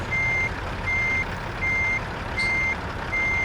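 A truck in American Truck Simulator reverses while parking, its backup alarm sounding five steady, evenly spaced beeps over a low, rumbling engine idle, loud and close with no talking.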